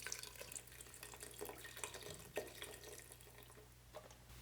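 Vegetable stock poured over vegetables in a soup pot, a steady close splashing trickle of liquid that runs for a few seconds with no talking.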